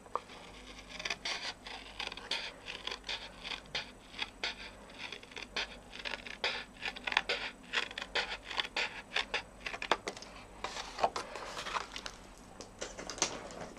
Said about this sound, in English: now I can either take a craft knife or my trusty snips